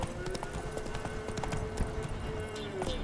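Roach the horse galloping in The Witcher 3, quick rhythmic hoofbeats clopping steadily over a quiet game background, with a brief whinny-like touch and no clear talk.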